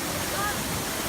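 Kaunayan Falls waterfall in Baler, a steady broadband roar of falling water filling a short stretch, loud and continuous with no break.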